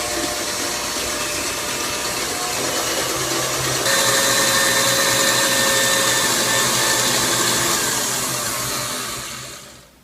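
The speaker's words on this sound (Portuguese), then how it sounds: "E vou bater em velocidade alta" A stand mixer beats meringue at high speed, a loud, constant motor whine that steps up slightly partway through before fading out at the end.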